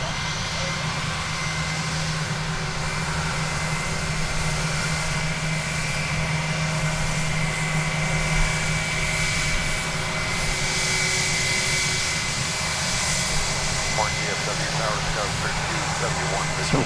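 Airbus A321 jet airliners at an airport, with a steady engine drone and broad roar running throughout at moderate level, a low tonal hum underneath and faint voices present.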